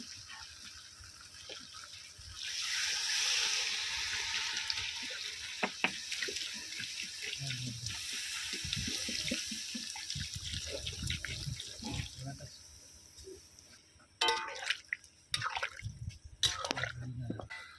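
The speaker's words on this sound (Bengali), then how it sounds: "এবারে আমি দিয়ে দেবো জল" Water pours into a pot of mutton and potato curry, a steady splashing stream for several seconds, followed by softer drips and clinks.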